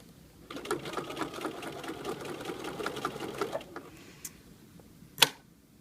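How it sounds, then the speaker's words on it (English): A Bernina sewing machine stitches a French binding in a rapid, even run of needle clatter for about three seconds, then slows and stops, followed by a couple of small handling clicks and one sharp snap. "Continue stitching, pinning if you want."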